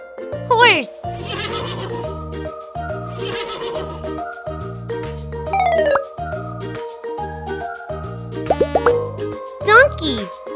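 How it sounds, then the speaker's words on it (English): A horse whinnies in several short, high, shaky neighs scattered over a cheerful music bed with plopping effects. "Horse."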